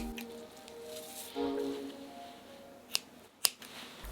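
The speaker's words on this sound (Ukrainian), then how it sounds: "Перев'язуємо кулінарними нитками і розрізаємо." Scissors snip culinary twine tied around a homemade sausage in a kitchen, giving two sharp, close cuts in quick succession against a quiet background.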